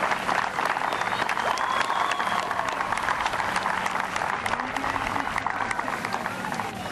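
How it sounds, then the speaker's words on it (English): A crowd applauding at a ribbon-cutting ceremony for a Miracle Field, steady dense clapping that holds for the full stretch and eases slightly near the end. "a round of applause for having the vision and the wisdom to bring that forward"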